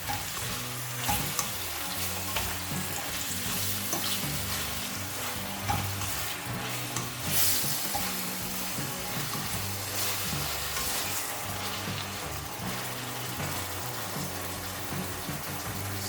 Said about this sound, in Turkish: Şöyle biraz kavuralım. Soğanla özleşsin havuç.